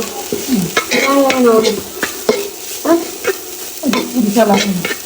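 Grated coconut fries in ghee in a metal pot, crackling and sizzling steadily while a spoon scrapes and stirs in quick repeated strokes, close and fairly loud, with a voice talking over it.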